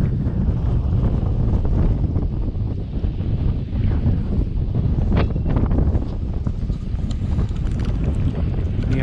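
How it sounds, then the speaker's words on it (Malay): Strong wind gusting across an open reservoir in hilly Aceh Besar, a continuous loud broadband roar buffeting the microphone throughout, with faint water sounds underneath and no voices. "Ini angin sangat kencang."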